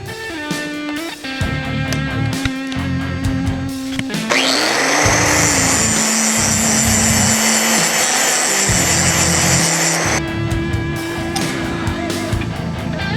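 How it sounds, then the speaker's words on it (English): Power tool grinding and sharpening the spikes of a prop spike grenade, a loud sustained high whine running for several seconds between quieter motor hum and brief contact passes. "I'm just going to sharpen them enough to make sure that they stick"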